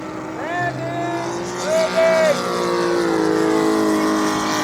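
The engine of a CY 84-inch span F8F Bearcat model airplane drones past overhead, rising and falling in pitch as it passes, with someone talking over it.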